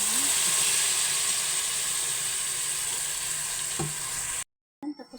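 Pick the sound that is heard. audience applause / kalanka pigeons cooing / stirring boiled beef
stirring boiled beef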